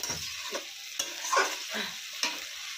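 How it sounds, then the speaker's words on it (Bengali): Pasta sauces, tomato sauce among them, are stirred in a hot pan: a soft sizzle runs underneath while a spoon scrapes and knocks against the metal in a few uneven, close strokes. "সব সসগুলো দিয়ে ভালো করে নাড়িয়ে চাড়িয়ে নিচ্ছি"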